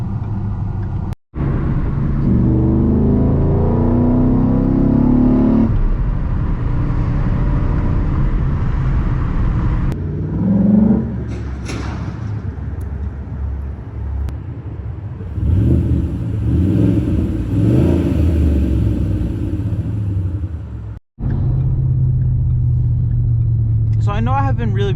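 A 2011 Ford Mustang GT exhaust rumbles and roars through repeated hard acceleration pulls on a morning drive, loud and close from inside the car, with brief gear-change dips between surges.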